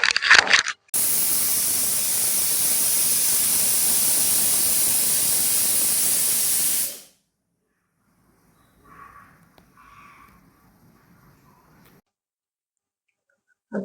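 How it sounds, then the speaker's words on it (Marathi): A pressure cooker on a gas flame at medium heat, cooking wheat-flour and puran modak, lets out a loud, steady steam hiss for about six seconds and then cuts off, leaving faint clatter afterward. "आता 3 शिट्ट्या झालेल्या आहे."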